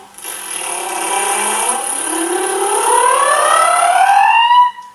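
Several singers' voices imitate a siren during a vocal lesson, gliding steadily from low to high pitch in long overlapping sweeps that hold loud and continuous for about five seconds before cutting off.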